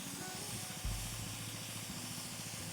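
A pressure water sprayer fitted with a 15 nozzle spraying near a horse, a continuous broad hiss with a low rumbling motor pulse beneath it and a brief louder burst partway through.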